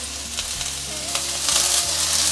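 Shiitake and other mushrooms spread flat and searing in hot oil in a pan, giving a steady, close sizzle with faint stirring clicks that grows slightly louder toward the end.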